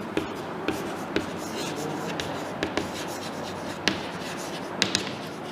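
Chalk or marker strokes on a classroom board during a chemistry lesson, a series of short scratchy taps and rubs spread irregularly over a few seconds, faint against room noise, with no talk.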